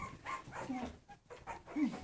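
A small dog gives a few short, yappy barks and whimpers at close range, with soft background noise between them.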